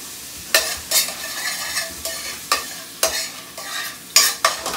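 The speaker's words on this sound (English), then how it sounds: "So now that our butter is hot, we're going to slide in just the calamari at this point." Calamari sautés in hot butter for a simple seafood sauté, with repeated sharp scraping stirs against the pan over a continuous close sizzle, roughly one stroke every half second, and no talking.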